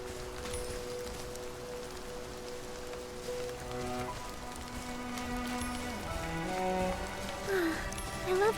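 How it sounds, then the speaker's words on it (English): Steady rain falling in a video game, a continuous hiss of drops with soft musical tones underneath, no talking. "I love how refreshing the cool raindrops feel."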